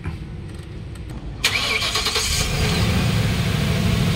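A Ford E150 van with a misfiring engine and a check-engine fault starts up: a short cranking burst, then the engine catches and settles into a steady, fairly loud idle nearby.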